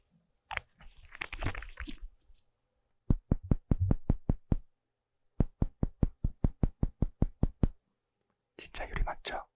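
Light glass taps on a laboratory glass vial, two quick runs of about eight and eleven sharp, evenly spaced clicks, close and crisp, with soft whispering before and after.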